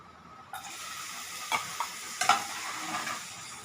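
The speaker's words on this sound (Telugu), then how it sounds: "ఫస్ట్ డ్రై ఫ్రూట్స్ గీలో రోస్ట్ చేసుకుంటాను" Dry fruits such as cashews, almonds, raisins, dates and melon seeds roast in ghee in a pan, giving a soft, steady sizzle punctuated by a few light stirring scrapes against the metal.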